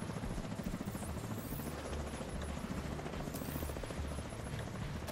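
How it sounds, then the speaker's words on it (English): A helicopter approaches in The Division 2 shooter game, its rotor chop steady, dense and fairly loud across the whole stretch, with no talking over it. "Oh, that chopper's coming."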